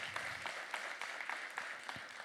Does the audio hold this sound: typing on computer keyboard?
no